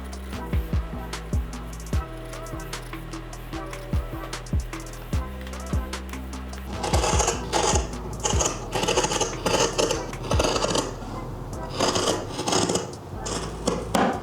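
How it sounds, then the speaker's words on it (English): Scissors cutting fabric to shorten a shirt hem, with close, steady crisp snips and rasping blade strokes, then a denser stretch of rustling cloth handling and continued cutting. "now that I've cut that hem"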